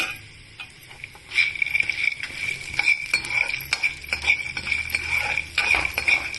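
Chana dal and peanuts frying in hot oil, a steady crackling sizzle with repeated clinks and scrapes of a ladle against the pan.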